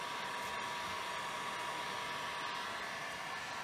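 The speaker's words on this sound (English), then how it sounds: "we use heat guns in here because we use 110 volts for safety" A 110-volt heat gun blows continuously in a workshop while wood-based decorative material is worked, a steady, even whooshing roar with no pauses and no talking.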